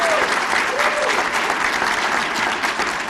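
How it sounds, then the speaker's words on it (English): Steady, dense applause from a large evening audience greeting the Mayor of Cleveland at a university speaker event, loud and continuous throughout with crowd noise and a brief voice mixed in near the start. "Give him a round of applause."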